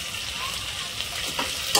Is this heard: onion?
yes